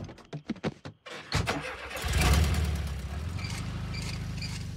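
Car engine started with pliers because the ignition key is broken off in the ignition: a few quick clicks and rattles, then the motor turns over, catches loudly and settles into a steady, rumbling idle.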